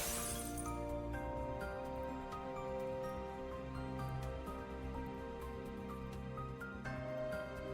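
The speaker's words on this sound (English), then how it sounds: "The entire world has begun to glitch and to crack, and you hear the sound of shattering" Glass shatters and cracks apart at the start, then its bright debris fades into a steady, sustained tonal drone of background music that runs throughout.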